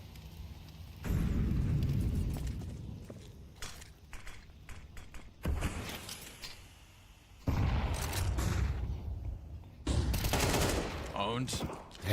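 Gunfire crackles through a Counter-Strike match in repeated bursts of rapid shots and single cracks, loud and close, with pauses between exchanges and no talk over the firing.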